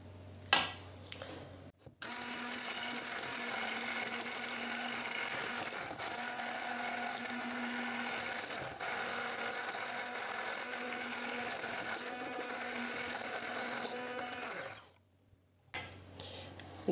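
Electric blender whirring steadily at high speed for over ten seconds while mixing a no-bake chocolate cheesecake, with a few short clicks before it starts and after it stops.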